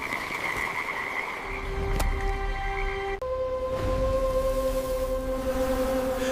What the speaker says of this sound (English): Then came frogs, spilling from the river, until they covered the land.